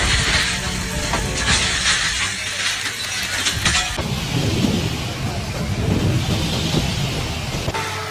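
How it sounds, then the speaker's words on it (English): Typhoon Yagi lashing Hainan Island, strong winds roaring with heavy rain, a steady loud wash of wind and rain noise throughout with a rumbling gust-driven surge partway through. "Typhoon Yagi is not just about strong winds, but also brings with it raging floodwaters"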